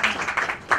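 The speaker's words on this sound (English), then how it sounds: "A round of applause to the ladies." Audience applause at a storytelling congress, a brief burst of clapping from a crowd that swells, dips and rises again over under a second.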